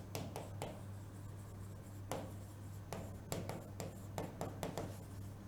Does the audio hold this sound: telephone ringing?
no